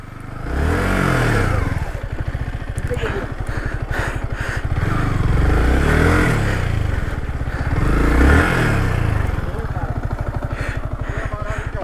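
Motorcycle engine revving repeatedly while the bike is stuck off-road, loud and close with rising and falling bursts and clattering, as people shout and talk over it.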